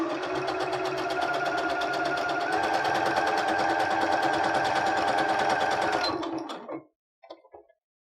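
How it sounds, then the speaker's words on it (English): A sewing machine runs a straight stitch along a leggings hem in one steady, loud, fast burst for about six seconds, then winds down and stops with a few short clicks. "Set your machine back to a straight stitch and don't forget to backstitch."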